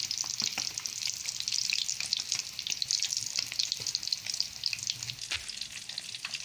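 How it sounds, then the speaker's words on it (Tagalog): Boneless milkfish (bangus) and other fish frying in hot oil in a pan, a bright, steady crackling sizzle with scattered pops, close up and without any talking. "Ayan, fried natin yung maga. Ayan. Baliktad lang natin."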